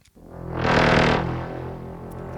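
A Diablo 2: Resurrected sound redesign layer with an all-pass phaser effect: a loud, dense sweeping tone that swells and then tails off over about two seconds, heard alone.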